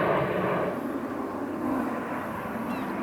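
Airplane flying over Ireland's Eye near Howth on the approach path into Dublin Airport, a steady broad engine roar holding at a constant level throughout, with no talk.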